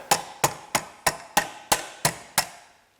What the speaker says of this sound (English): it may be easier to tap it on with a rubber mallet